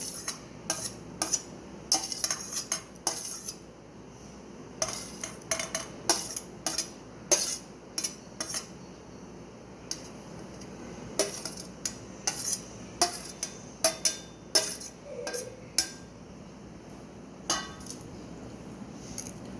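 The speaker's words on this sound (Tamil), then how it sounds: "இப்போ இது எல்லாத்தையுமே ரஃப்பாக ஒரு மிக்ஸ் பண்ணிவிட்டு" Sweet corn and finely chopped vegetables for a sweet corn chaat are stirred together in a bowl, with a spoon clinking and scraping in quick, irregular bursts throughout and no voices.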